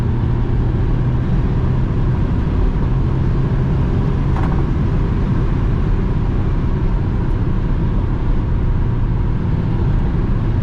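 Engine of a 2007 Honda S2000 AP2 droning steadily from inside the cabin while driving, a dense continuous low rumble with road noise, loud and unbroken throughout.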